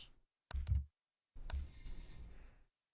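Two short bursts of clicking from computer keyboard buttons being pressed, the first near 0.5 seconds and a longer clattering run from about 1.5 to 2.6 seconds, close and fairly quiet in an otherwise silent room.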